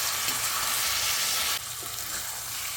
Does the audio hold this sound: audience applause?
no